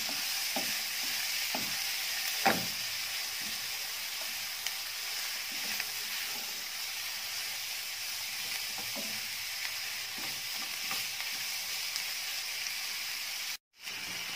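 Meat for a potato tagine sizzling as it is stir-fried in a pan, a steady hissing fry with occasional soft stirring scrapes and one brief dropout near the end, close and moderate, no talking.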